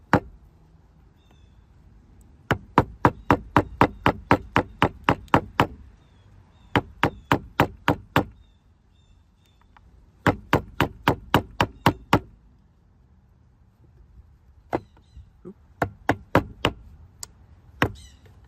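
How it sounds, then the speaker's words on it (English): Sharp knocking taps in quick rhythmic bursts of about eight to ten strikes, separated by short pauses, from prying a stuck rubber center gasket out of a Hyundai valve cover; close and loud with no talking. "In just one very easy way, just pry out the rubber gasket."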